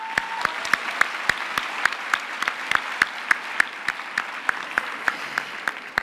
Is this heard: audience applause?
yes